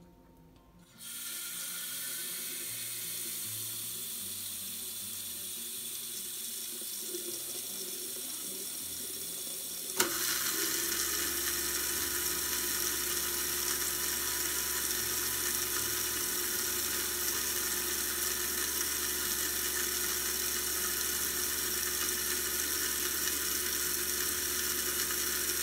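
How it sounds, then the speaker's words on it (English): Kitchen garbage disposal grinding and whirring steadily with tap water running into the sink, the faucet starting alone before the disposal kicks in loudly and drones on without pause. "Turn on the water and then the disposal."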